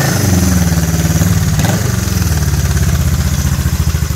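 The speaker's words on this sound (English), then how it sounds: "What is it, a Honda? It's a Honda." A Honda two-cylinder motorcycle pulls up nearby with a steady low engine throb and a brief blip midway, idling loudly throughout with a slight clattery edge.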